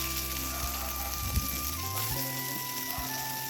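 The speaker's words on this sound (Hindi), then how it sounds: "घी अच्छे से गर्म हो चुकी है। अब इसमें डालेंगे जीरा, करी पत्ता" Cumin seeds and curry leaves sizzle in hot ghee in a kadhai, a steady close hiss with a few soft pops and clatters, no talk.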